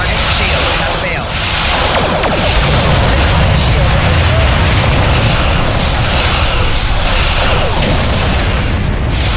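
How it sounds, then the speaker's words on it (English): Dense, continuous rumbling blasts and booms of exploding ships in Star Trek Online, one explosion after another with no pause, loud and close. "Explosions cause damage."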